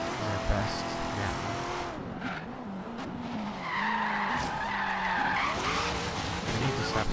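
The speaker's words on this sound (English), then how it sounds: "Stop spinning out on that corner." Tires skidding and squealing on a Corvette Z06 spinning out in the racing game Forza Horizon 3, over a steady engine roar with wavering squeals throughout and louder screeching near the end.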